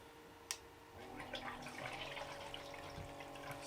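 Water rushes and splashes through a gold sluice carrying Motherlode paydirt, a soft steady trickle with a brief knock near the start, faint and alone.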